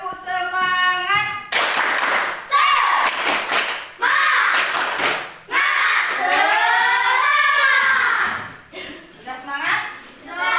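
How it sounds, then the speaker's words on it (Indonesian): A school class performing a rhythmic spirit clap, with bursts of group clapping in patterned beats mixed with loud chanting voices in a classroom, close and energetic. "marilah kita tepuk semangat terlebih dahulu"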